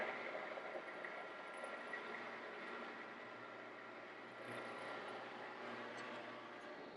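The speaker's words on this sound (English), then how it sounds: "I turn the mill on." A milling machine runs with a steady mechanical drone and faint gear whine while dual plugging an Ironhead motorcycle cylinder head bolted to a fixture on the mill table, holding an even level throughout.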